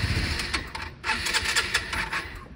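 A scooter's electric starter motor cranks steadily for a couple of seconds, pauses briefly, then cranks again in a dense, buzzing whir, close and loud, as the engine almost catches after winter storage.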